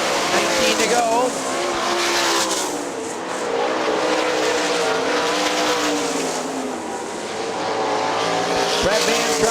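Sprint cars racing at Hartford Speedway Park in a Great Lakes Outlaw Sprint Series event, a loud continuous roar of several engines circling the track, rising and falling as they pass, with an announcer talking over the noise.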